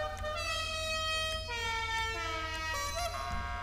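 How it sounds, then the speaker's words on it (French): Liberty City car horn in Grand Theft Auto sounds as a series of sustained multi-tone honks, several blasts one after another over a low steady engine hum. "Le klaxon Liberty City"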